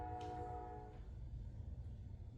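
A passing train sounds its horn in a steady sustained blast near the start, fading after about a second into continuous low rail rumble.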